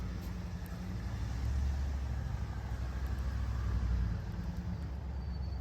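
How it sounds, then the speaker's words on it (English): A FedEx delivery truck pulls up a driveway, its low engine rumble swelling slightly and then settling into a steady idle, with no talking. "Here comes the FedEx truck."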